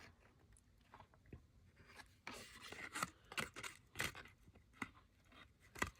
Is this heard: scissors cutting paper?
yes